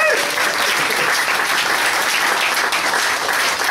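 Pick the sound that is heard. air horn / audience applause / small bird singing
audience applause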